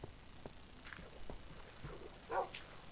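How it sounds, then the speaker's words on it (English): Dogs bark faintly in the Minecraft video game, a few scattered short yips and woofs at a distance over low background noise. "Dogs are gonna drown themselves."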